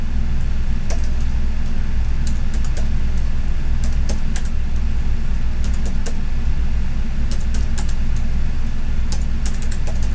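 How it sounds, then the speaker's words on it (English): Keys tapped on a 2007 HP laptop keyboard while entering a number sequence, scattered light clicks in irregular bursts over a steady loud low hum of fan or machine noise. "Typing out the confirmation ID now."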